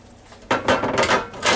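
Metal crisper pan of a Ninja Foodi grill being handled, a few loud close clanks and rattles of the pan settling into the grill in quick succession.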